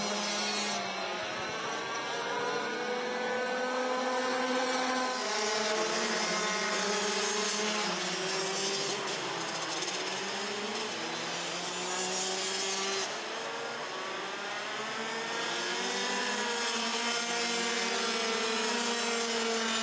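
Rotax racing kart engines scream along a track during a Masters heat of the Rotax Euro Trophy at Muelsen, a loud continuous whine with rising and falling pitch sweeps as karts pass near and away.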